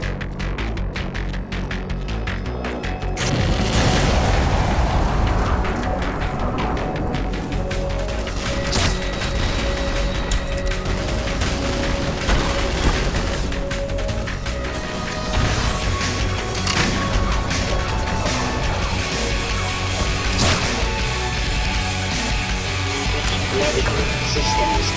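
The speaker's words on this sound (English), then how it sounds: "Here's what this tank fight looks like in Black Mesa." Heavy explosions and booming gunfire fill a tank battle in the game Black Mesa, a dense, continuous barrage of blasts, crashes and rumbling with repeated loud impacts throughout.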